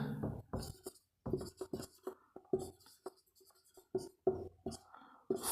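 Writing out the quadratic formula, short scratchy strokes and taps in uneven bursts with brief pauses, close and fairly quiet, with soft murmured speech between them.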